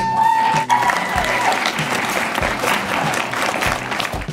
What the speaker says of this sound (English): Let's give them all a round of applause again.